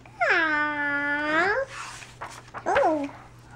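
A toddler voices a long, rising-then-falling meow in imitation of a kitty cat, close and clear, followed by brief breathy babble and a shorter second meow-like cry.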